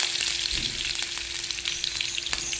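Kalonji seeds and onion fry in a frying pan for an Assamese tangy ladyfinger dish, making a continuous bright sizzle with faint crackles and light pops, steady and close.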